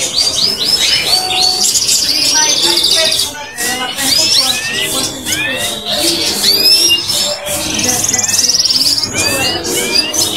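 Many caged songbirds at an outdoor bird fair in Madalena chirp and whistle continuously and loudly, in dense overlapping bright calls, with people talking faintly in the background.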